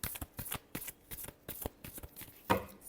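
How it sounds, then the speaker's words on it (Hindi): Tarot cards are shuffled close up in a quick, regular run of riffling slaps and flicks, ending with a sharper knock as the deck is squared, with no speech. "Last shuffle."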